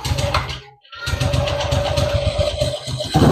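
A Honda PCX 150 scooter engine cranks briefly, falls quiet for a moment, then catches and settles into a steady, close, loud idle with a fuller revving surge at the end.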